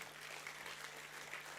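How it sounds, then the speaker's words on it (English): Steady applause from a university convocation audience, a dense wash of clapping hands that carries on without a break. "How about another round of applause?"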